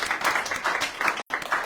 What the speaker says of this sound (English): We'll give Noah a round of applause